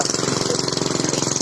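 A motorized tricycle idles up close, its engine putting out a steady, rapid chugging pulse with an even rhythm and no pauses.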